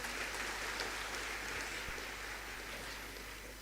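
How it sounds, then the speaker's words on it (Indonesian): A large crowd at a university graduation ceremony applauds some 800 graduates. The clapping is faint and distant, a soft continuous patter like rain, slowly easing toward the end. "tepuk tangan untuk para wisudawan ini"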